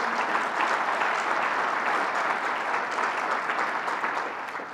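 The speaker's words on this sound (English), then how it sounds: "Let's give him a round of applause." Sustained applause from a crowd at a New York governor's bill-signing event fills the room, steady and loud, tapering slightly at the end, with no talking.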